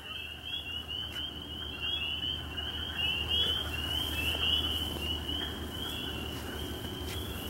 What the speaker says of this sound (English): I definitely hear some frogs.